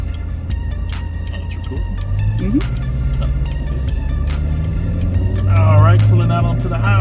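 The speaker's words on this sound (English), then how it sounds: "Pulling out onto the highway, having a sports mode, so the exhausts are open." Chevrolet Corvette C7 Z06 in sports mode with its exhausts open, pulling out onto a highway: a steady low engine and exhaust rumble swelling as it accelerates, with someone talking over it.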